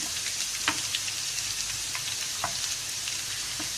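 Garlic sizzling steadily in hot oil for a radish bhujiya, a dense continuous fry with a few sharp spatters and pops, close and alone with no voices.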